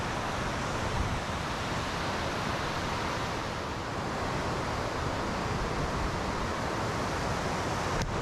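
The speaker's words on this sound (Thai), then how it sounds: "นี่น้ำตกครับ" Rushing water of a waterfall at Lam Takhong, a steady dense broadband roar that stays loud and unbroken throughout, with no voices over it.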